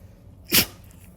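A puppy gives a single sharp, close sneeze, a brief explosive burst standing out against a quiet room.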